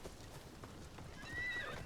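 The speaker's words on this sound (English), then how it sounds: "Let's get the horse." A horse in the Assassin's Creed Shadows video game neighs and clip-clops its hooves, a short, fairly faint burst with a high whinny near the end and no speech.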